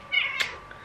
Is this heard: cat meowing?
yes